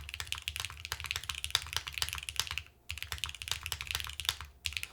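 Keys on a Mode Encore mechanical keyboard are typed in quick, irregular bursts of crisp clacks, close and fairly quiet, with a short pause midway.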